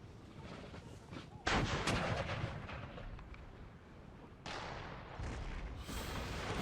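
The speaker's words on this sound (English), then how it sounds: "That cannon's going to cause me problems" Cannon artillery booms in a Napoleonic-era Empire Total War battle, sharp loud blasts at irregular intervals over a rumbling battlefield backdrop, with someone speaking faintly now and then.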